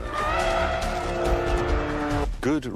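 A BMW M3 sports sedan runs hard on a race circuit, its engine loud and steady with strong harmonic whine, ending with a rising, wavering screech like tire squeal near the end.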